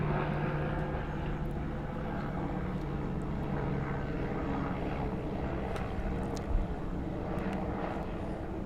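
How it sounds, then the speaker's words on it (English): A helicopter flying overhead during an outdoor press roundtable on fentanyl enforcement gives a steady, low, droning rotor noise that stays constant at a moderate distance with no talk over it. "Let's wait for just a moment for the helicopter."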